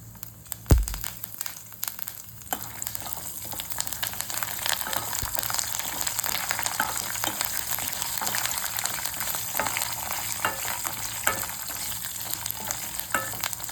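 Cashews and curry leaves frying in hot oil for pulihora: a dense, steady crackling sizzle that runs throughout, close and even, with a brief knock near the start and no speech.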